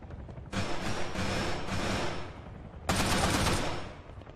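A player firing a gun in Arma 3 King of the Hill in Kavala: loud, close automatic bursts, one long volley of about two seconds followed by a shorter second burst after a brief pause.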